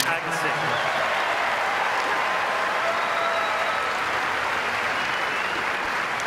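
Tennis crowd applauds after Agassi wins a game in the 2003 Masters semifinal against Schuettler, a dense sustained wash of clapping from a large arena audience, steady and fairly loud throughout.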